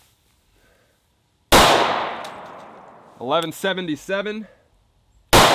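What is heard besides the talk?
Sig P365 XL pistol gunshots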